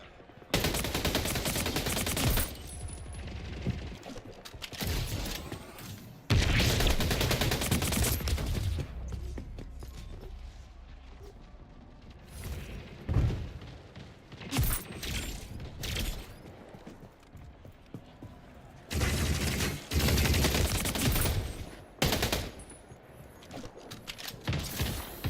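Bursts of power weapon gunfire in the arena shooter Splitgate 2, with loud sustained volleys separated by quieter gaps, rapid repeated shots and heavy automatic fire dominating the mix.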